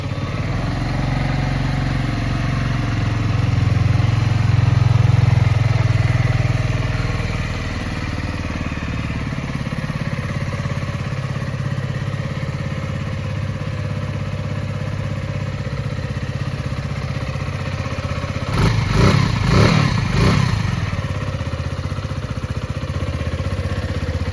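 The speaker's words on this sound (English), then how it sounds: "Nice sound from a single cylinder." A 2023 Mutt Hilts 125cc single-cylinder motorcycle engine idling with a steady, loping thump, swelling slightly early on and clattering briefly toward the end.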